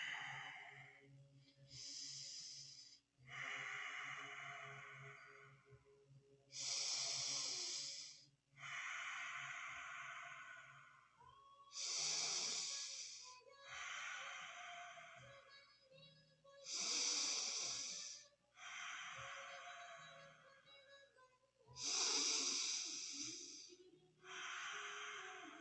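Long, deep breaths during a seated kundalini yoga forward stretch, slow inhales and exhales repeating about every three seconds, close and soft, alone without talk.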